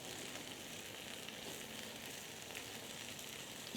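Butter sizzling with sautéed mushrooms in a pan, a steady bright crackling hiss that holds evenly throughout with no talking.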